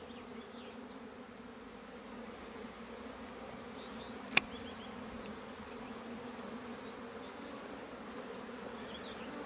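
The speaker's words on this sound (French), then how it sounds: "Les abeilles sont calmes, elles travaillent normalement." Honeybees buzz around beehives during swarming season, a soft steady drone of many insects with faint passes of individual bees and one sharp click midway.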